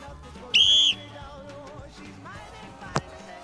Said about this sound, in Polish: I zarazem gwizdnąć.